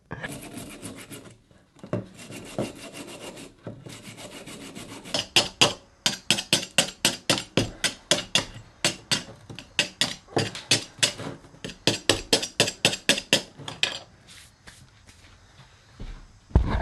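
Rapid, sharp hammer blows on a metal spike, close by, in steady bursts after a few scraping rubs at the start.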